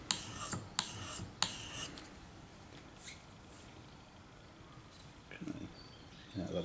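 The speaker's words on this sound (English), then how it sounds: "I'll put it flat on the stone and take off" Opinel No. 8 knife blade laid flat and rubbed on a sharpening stone to remove the burr, three quick scraping strokes at the start, then quieter rasping with a voice murmuring faintly.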